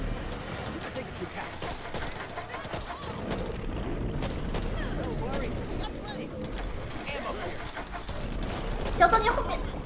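Gunfire crackles in Back 4 Blood as repeated sharp shots scatter through a busy in-game soundscape, rising to a louder burst near the end, while players talk.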